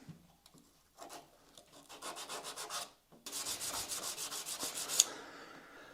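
Fine 600-grit sandpaper is rubbed across the top of a machine cam, giving rapid back-and-forth rasping strokes, a short burst and then a steadier run of close, brisk scrubbing with a brief pause between.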